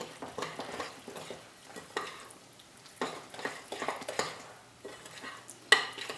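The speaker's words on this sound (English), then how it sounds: "So we want to mix this together." Bacon drippings being stirred in a pot for ham and corn chowder, a spoon scraping and clinking at a close, quiet level in irregular strokes with a soft sizzle underneath.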